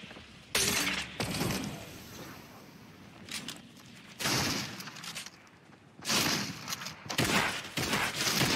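Fortnite gunfire comes in loud, clustered bursts of sharp shots with crackling, shattering hits, separated by short lulls.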